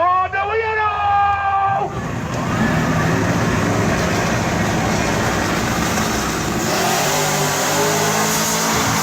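A supercharged Corvette at a drag race revs hard and roars continuously, loud and close, with other engine and crowd noise behind and people talking over it.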